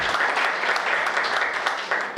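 An audience at a Hindi lecture gives applause, a dense, continuous patter of many hands clapping at close to moderate distance, steady throughout with no speech on top.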